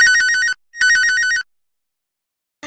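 A telephone rings in two loud electronic bursts of warbling tones, each under a second, separated by a short gap, then silence before another sound starts.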